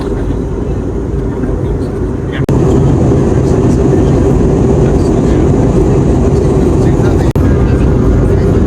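Loud, constant engine roar and rushing air of an airplane cabin in flight, a steady heavy drone with a couple of brief clicks.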